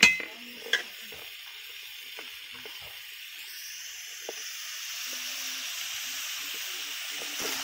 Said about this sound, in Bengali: একটু হালকা আঁচে আমি এগুলোকে বয়েলড হতে দেবো বা সিদ্ধ হতে দেবো।